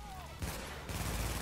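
Video game gunfire: dense, continuous bursts of shots run through the whole moment, layered with game sounds and a background tone.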